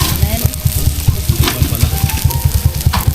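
Noodles frying in a pan at Tondol Beach, Anda, Pangasinan, a loud steady sizzle broken by regular rhythmic scraping or stirring strokes, close by and continuous throughout.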